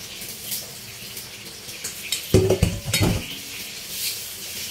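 Hotdog and chicken popcorn go into a hot frying pan, with a soft background sizzle and a brief cluster of close clattering utensil and pan knocks in the middle.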